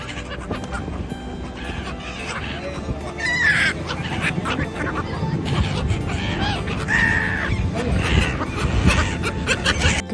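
Migratory birds scramble for gathiya on the banks of the Tapi river in Surat, a busy mix of squawks and calls from many birds, with a voice speaking underneath.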